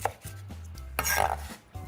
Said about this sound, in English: I'm gonna start to chop up the bacon